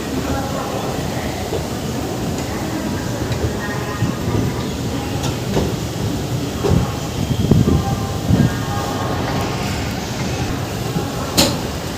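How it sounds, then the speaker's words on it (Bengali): The 22321 Hool Express passenger train departs Howrah Junction, rolling along with a steady low rumble, occasional metallic clanks and squeaks punctuating the drone. "হাওড়া জংশন থেকে আমাদের ট্রেন ছেড়ে দিল"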